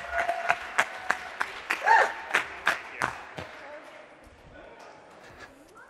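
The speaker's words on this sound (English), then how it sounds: "Let's give them a big round of applause" An audience at a live podcast debate event gives a short burst of clapping, sharp and fairly close, that thins out and fades into a quiet room murmur.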